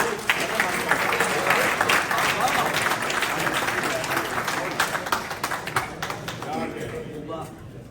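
Sustained audience applause at an Urdu mushaira poetry gathering, a dense wash of many hands clapping that welcomes a poet, with voices faintly murmuring underneath before it tapers off near the end.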